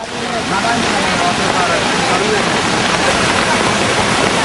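Floodwater from the risen Daduru Oya rushing over the submerged Ridigama bridge, a loud, steady, dense roar of churning water with no break, close and filling the whole scene.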